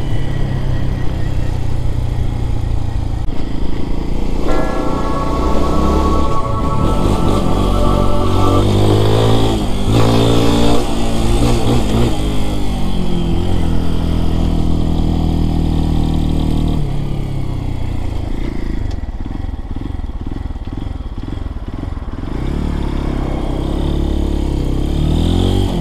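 A Lifan KPX250 motorcycle engine idles close by, a loud, continuous mid-range drone whose tone shifts and wavers slightly throughout.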